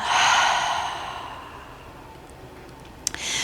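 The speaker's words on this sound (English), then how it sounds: "Breathe in. And exhale. And breathe in. And exhale." A slow, audible breath during a gentle movement routine, a long airy inhale or exhale that swells then fades, followed by a brief sniff and another soft breath near the end, close and alone.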